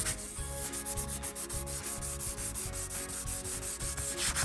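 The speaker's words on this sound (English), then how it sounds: "I'm going to use 600 grit sandpaper. I'm going to distress just a little bit." Pages of paper are distressed with 600 grit sandpaper, giving a steady series of rhythmic rubbing strokes, close and alone.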